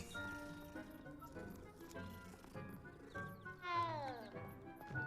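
A cat in a wizard-themed video game meows several times in quick succession, close and clear, with a longer, drawn-out sliding meow near the end.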